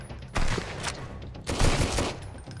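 Pirates open up with a machine gun in the survival game Sunkenland, two loud bursts of rapid shots at close range separated by a short lull.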